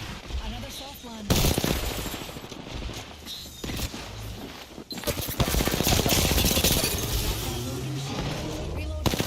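Automatic weapons in the video game Apex Legends fire in loud, rapid bursts, with dense rattling volleys and sharp impacts that grow heavier toward the end, while a player talks over the fight.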